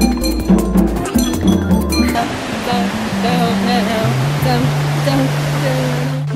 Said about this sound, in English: We're at Shireto Waterfalls in Fuji Town.